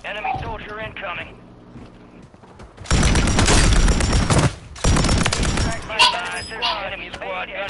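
Enemy gunfire in a video game comes as two long, loud, dense bursts of rapid shots. Voices talk over the quieter stretches before and after.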